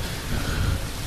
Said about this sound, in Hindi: ठंड और ऊपर से ये बारिश की बूंदे तलवार की तरह चुभने लगी